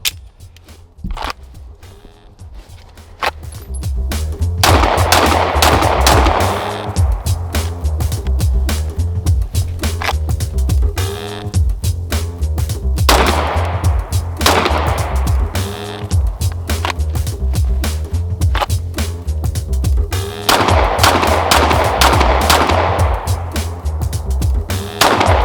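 Shots from a Lone Wolf Dusk 19R pistol firing PMC ammunition on a range, sharp cracks in rapid strings with short pauses between bursts, loud and close.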